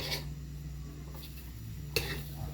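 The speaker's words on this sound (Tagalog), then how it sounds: "Lumusawin lang natin sa mainit na kawali." Margarine melting in a hot pan for a corned tuna sisig, stirred with a utensil, giving a soft steady sizzle and a couple of light scraping clinks against the pan.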